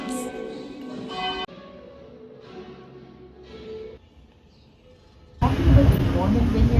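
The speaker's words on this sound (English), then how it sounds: "Church bells." The church at Auvers-sur-Oise in France rings its bells, which break in loud and full near the end after a stretch of quieter, muffled outdoor ambience.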